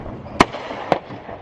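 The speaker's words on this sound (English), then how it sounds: "all around us there are fireworks going off" Fourth of July fireworks bursting in the distance, two sharp bangs about half a second apart over a low outdoor rumble.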